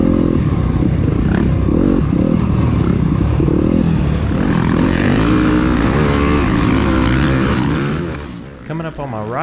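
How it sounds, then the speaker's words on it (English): Dirt bikes race in a harescramble, with a KTM motorcycle passing close by, its two-stroke engine rising and falling loudly over a rider's running commentary. "Coming up on my right on the KTM is Rob McElroy"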